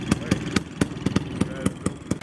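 An antique tractor engine at the Rollag steam show runs with a slow, regular chuffing beat, evenly spaced loud pulses close by, as someone talks underneath.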